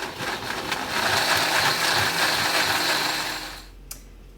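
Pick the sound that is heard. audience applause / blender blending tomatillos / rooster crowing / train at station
blender blending tomatillos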